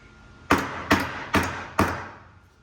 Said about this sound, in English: Give it a little tap. Where's my hammer?